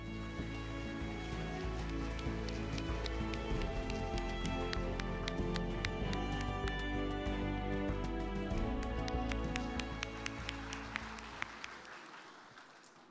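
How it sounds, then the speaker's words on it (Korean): An audience applauds at a Korean Construction Day ceremony as a speaker is welcomed, dense clapping with a steady tonal hum beneath it that tapers off toward the end. "큰 박수로 모시겠습니다."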